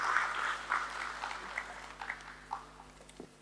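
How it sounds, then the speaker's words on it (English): Audience clapping at a stock exchange IPO listing ceremony at BSE, a moderately distant round of applause that starts fuller and gradually thins and fades out over a few seconds. "Let's welcome her with a round of applause"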